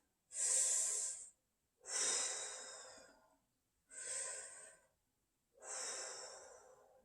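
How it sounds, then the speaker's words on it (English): Four deep breaths, slow and close, each a long airy hiss with a quiet pause between them. "Take a few deep breaths."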